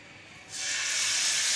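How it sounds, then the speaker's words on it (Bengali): Chicken boti kabab pieces go into hot mustard oil in a pan and set off a sudden, bright sizzle. The hiss swells after a quiet moment and then holds steady and close, with no talk. "এখন আমি বাকিগুলো এভাবে ভেজে নিই"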